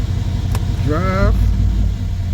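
A Mercedes CLS550 idles with a low, steady rumble as its transmission is shifted into drive. A single short spoken word rises over the engine partway through, and the idle continues underneath.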